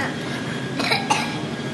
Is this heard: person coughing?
yes